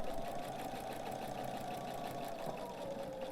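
A sewing machine stitches fabric with a quiet, steady, fast rhythmic hum that runs without pause, with no talking.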